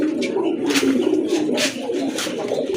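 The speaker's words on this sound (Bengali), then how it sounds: "মাশাল্লাহ আরেক জোড়া কবুতর দেখতে পাচ্ছেন" Pigeons at a market coo in soft, repeated rolling calls, close and fairly loud, layered over steady background murmur, with no clear talking.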